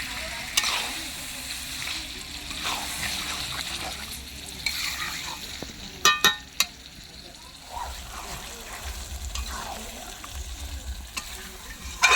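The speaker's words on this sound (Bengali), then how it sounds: "এবার মটনটা রান্না করে নেব মশলাটা ঢেলে দেব মাংসটাও দিয়ে দেবো" Mutton and spice paste fry in a pan with a soft, steady sizzle and occasional stirring scrapes, a few sharp clinks midway, and a voice talking faintly at times.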